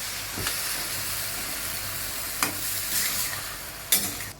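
Eggplant sizzles steadily in a hot pan while a spoon scrapes and stirs it three times at uneven intervals, with no voices.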